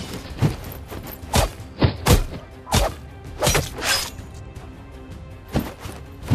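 Axe blows striking enemies in the Hellsplit Arena VR game: a series of sharp, heavy thuds and cracking impacts at uneven intervals, fairly loud and close, with no talk.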